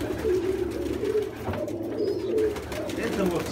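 Black-tailed pigeons, a pair kept in a loft, give low, soft cooing in repeated rolling phrases. Someone talks over the birds throughout.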